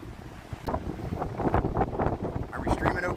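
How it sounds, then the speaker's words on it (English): Gusty wind off the Atlantic Ocean buffets the microphone on a pier at Wrightsville Beach, North Carolina, in a steady rumbling roar, with a few voices faintly mixed in underneath. "It's pretty windy."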